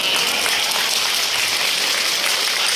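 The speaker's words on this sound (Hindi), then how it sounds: "ये आपकी तालियां, आपकी सीटियां हमारे लिए ऑक्सीजन का काम करती है।" A festival crowd at a raas mahotsav in Pathshala, Assam, applauds with dense, loud, continuous clapping, and shrill whistles cut through the clapping.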